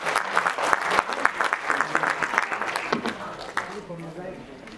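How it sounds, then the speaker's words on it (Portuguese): Audience applause at an awards ceremony for International Mother Language Day and the 2023 Interculturality Prizes, a steady round of clapping that thins toward the end, with voices mixed in. "Uma salva de palmas para eles"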